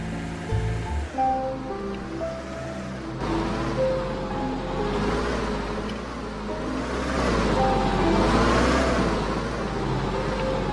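A car driving in the video game Lumber Tycoon 2 makes a steady, loud engine drone with a continuous rushing hum, rising and falling slightly in pitch throughout, with no talk.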